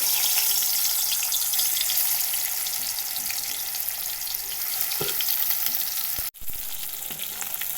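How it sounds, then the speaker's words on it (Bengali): Pangas fish frying in hot oil in a kitchen pan, a steady loud hiss and crackle running almost without pause, with one very brief break near the end. "তেল গরম হয়ে গেছে মাছটা দিয়ে দেবো"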